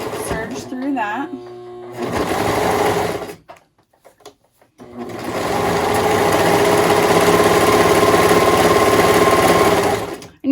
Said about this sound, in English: Just gonna serge through that.